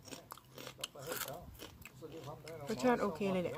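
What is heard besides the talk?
crunching on Norwegian pork rinds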